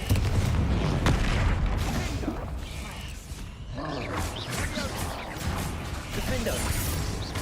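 A Bombarda spell blasts in Hogwarts Legacy amid combat: loud booming impacts and crashing, creaking debris, with a sharp hit near the start and further bursts later, under a shouted spell-casting voice.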